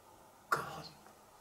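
A single short cough, faint and close, stands out against a quiet background hiss.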